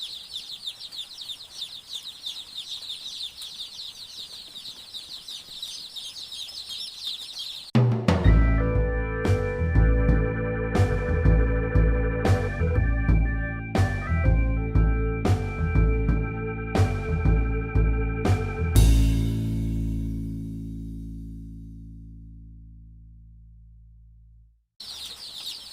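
Day-old chicks in a brooder cheep in a continuous high chorus, close and busy, before loud music takes over and drowns them out.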